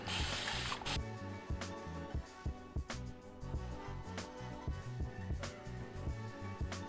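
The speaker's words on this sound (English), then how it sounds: "take your favorite refillable spray bottle and you are going to saturate the front of your hair with water" A refillable spray bottle mists water onto hair in a quick hissing burst lasting about a second, followed by quiet rhythmic background music.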